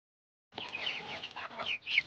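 Chickens clucking and murmuring close by, a soft continuous chatter of fowl calls after a moment of silence.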